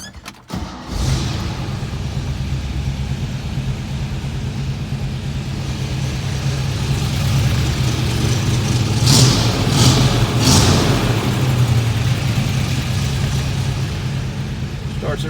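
A restored 1959 Chevrolet Corvette C1 convertible cranks and fires up, then settles into a loud steady idle close by, with a few brief revs partway through.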